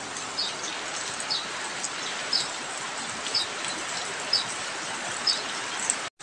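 Steady rain falls over a mountain village in Siliwanga, Napu Valley, Central Sulawesi, in the morning: a dense, even hiss with faint periodic drips or chirps, no voices, cutting off abruptly at the end.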